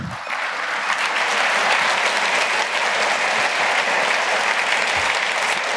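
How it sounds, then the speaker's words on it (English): Steady, dense applause from a large audience in a conference hall at 31c3 welcomes a speaker, loud and unbroken throughout with no talking over it. "give a big round of applause for Kai Kunze"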